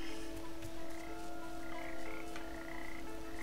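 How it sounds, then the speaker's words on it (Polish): Frogs croak steadily and densely over a constant hum in the video game Papo & Yo, a continuous chorus with no talking. "Ale słyszymy te żaby i to mnie trochę niepokoi."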